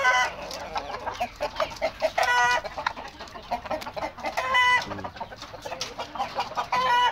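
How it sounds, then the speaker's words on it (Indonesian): An Indio Gigante hen clucks repeatedly in short, close bursts, with other chickens calling and crowing nearby, in a loud farmyard with little talk. "Ini betina Indio Gigante."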